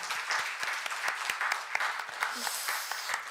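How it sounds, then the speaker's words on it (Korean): Applause from a church congregation at a Sunday afternoon worship service, a modest patter of claps with a few sharp individual claps standing out, steady and moderately distant across the room. "하나님께 영광의 박수 올려드리겠습니다."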